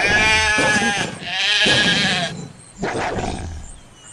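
A sheep in the wolf-simulation game The Wolf lets out two or three loud, close, wavering bleats in quick succession, each trailing off before the next, with nothing else heard.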